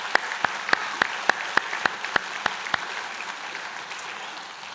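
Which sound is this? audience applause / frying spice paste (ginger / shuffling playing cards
audience applause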